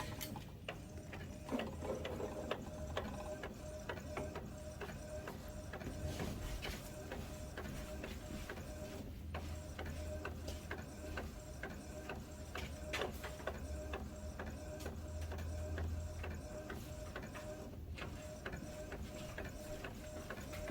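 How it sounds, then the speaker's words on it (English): A printer at work, ticking and whirring with repetitive mechanical clicks and gear rattles, faint and continuous throughout with an occasional low hum. "my printer is actually printing as we speak"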